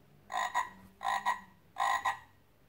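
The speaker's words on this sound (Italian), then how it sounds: "Mentre attraversavano lo stagno si mise a cantare anche Rana." A frog croaks in three short double-pulsed bursts, evenly spaced, close and clear against a quiet background, in a pond setting.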